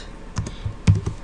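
A few keys on a computer keyboard are typed in quick succession, close and crisp, five or six soft clicks in just over a second with no voice.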